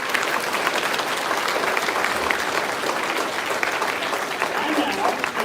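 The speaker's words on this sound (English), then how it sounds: "can we give a round of applause for advanced orchestra students?" A concert audience gives sustained, dense applause for advanced orchestra students at a fall welcome concert, a loud, even wash of many hands clapping with no letup throughout.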